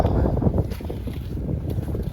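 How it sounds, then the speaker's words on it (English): Wind gusting outdoors on a snowy homestead, a loud, steady low rumble buffeting close to the microphone with slight surges and no clear voices. "It's windy out, isn't it?"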